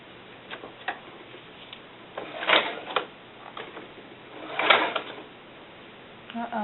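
A sewing machine stitches a pair of doll-sized snakeskin boots in short, quiet runs. Faint ticking clicks lead into two brief buzzing bursts of stitching, with gaps of near-silence between them.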